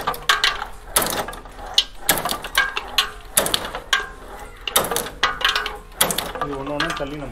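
A cashew nut shelling machine cracks nuts one at a time in a Panruti processing unit, giving repeated sharp mechanical clacks and ratcheting snaps in an irregular rhythm, fairly close and loud, with a voice talking now and then.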